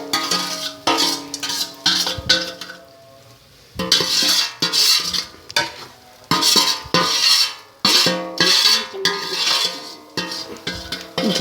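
A spoon stirs fried ingredients into roasted semolina with ghee for panjiri, making rhythmic bursts of scraping and metallic clinking against the pan, with brief pauses between strokes.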